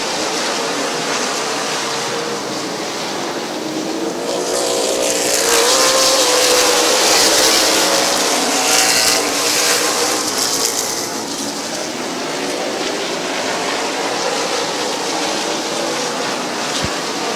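Race cars roaring around the oval at Midvale Speedway under green flag, a dense engine drone that swells loudly as the pack passes close by around the middle, then settles back to a steady distant rumble.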